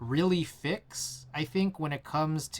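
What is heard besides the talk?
No everyday noise stands out behind the speech.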